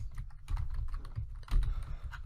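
Rapid keystrokes on a computer keyboard, typed into a browser search. The clicks come close and steady, with a louder burst partway through.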